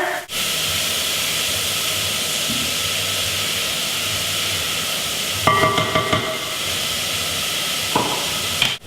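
Chopped onions sizzle steadily in hot oil in a home kitchen pan, a constant bright hiss throughout with a few clinks and stirring scrapes partway through.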